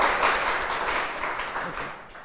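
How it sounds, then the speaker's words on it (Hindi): A school class applauding together, with a broad, steady wash of many hands clapping that slowly fades toward the end and has no clear speech over it. "तो एक ताली बजा लें"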